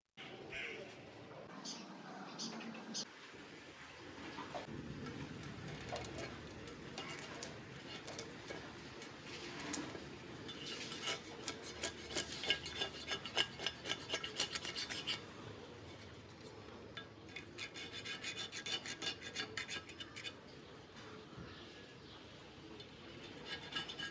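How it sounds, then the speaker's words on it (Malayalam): Loose, flaking paint is scraped off a painted surface, giving a continuous soft rasping and rubbing that grows busier and louder midway, close by and fairly quiet. "അഴിച്ച ശേഷം ചെറുതായിട്ട് പെയിൻ്റ് എല്ലാം ഇളക്കി മാറ്റുന്നുണ്ട്"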